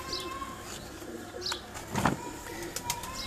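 Pigeons coo softly on a rooftop in Kharian, a low repeated cooing with faint chirps and a brief rustle of wings over steady outdoor background noise.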